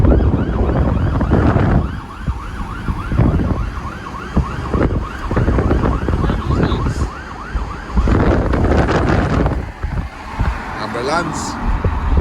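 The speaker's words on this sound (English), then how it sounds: "Ambulance." An ambulance siren wails through the whole stretch in steady rising-and-falling sweeps, loud and close as it passes on a road near Maracas Bay, mixed with road and wind noise while people talk over it.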